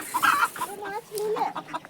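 A few chickens cluck nearby in short, warbling calls, with brief pauses between bursts.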